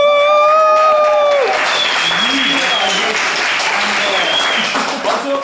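Applause from a stand-up comedy audience swells after a brief tonal sound at the start and continues as dense, steady clapping mixed with some crowd voices.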